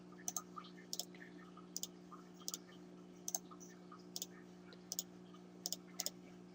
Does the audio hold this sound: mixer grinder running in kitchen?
no